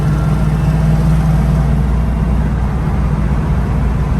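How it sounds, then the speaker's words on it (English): A Foxbody Mustang fitted with a Mac X pipe idles loudly with an exhaust leak, a steady low drone and rumble heard from inside the car with the windows up. "you can hear the exhaust leak really bad"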